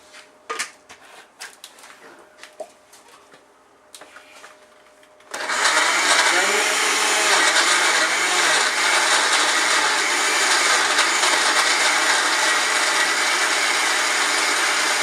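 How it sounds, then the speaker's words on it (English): A kitchen blender purees pepper and onions with water for tomato paste, starting with a few faint clicks and handling sounds before a loud, steady motor whir kicks in and runs continuously to the end. "We're going to add water to this, then we blend it."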